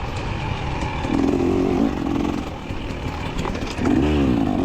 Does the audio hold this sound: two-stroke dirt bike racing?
yes